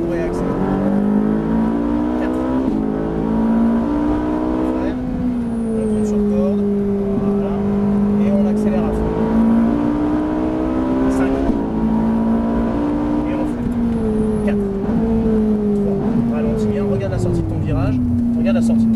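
Ferrari F458 engine on the Le Luc race track, droning steadily with rising and falling pitch as it accelerates through corners, continuous and close throughout, with an instructor talking over it.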